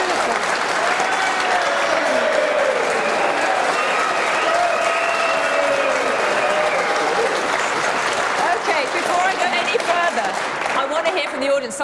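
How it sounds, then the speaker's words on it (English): A studio audience at a televised political debate show bursts into loud, sustained cheering and applause that fills the whole stretch without a break. "that was a massive cheer there"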